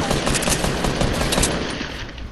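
Rapid automatic gunfire in Fortnite, a loud continuous burst of shots lasting a couple of seconds, close and dominant with no talk over it.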